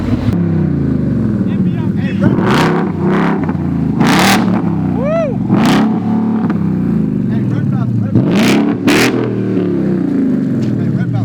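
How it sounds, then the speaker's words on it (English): A Ford Mustang engine revs hard and repeatedly with a loud, roaring exhaust, rising and falling in bursts, close by with voices faintly underneath. "Are we doing a rev battle?"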